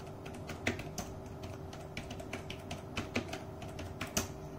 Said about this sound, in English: Now you can type your exam